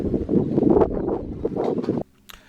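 Wind blowing hard against the microphone at an outdoor shooting range, with gusty buffeting rumble for about two seconds before it cuts off into near quiet.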